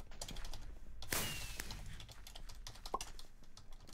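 Keys clack on a computer keyboard during a Minecraft survival game, a quiet, irregular patter of taps with one louder burst partway through.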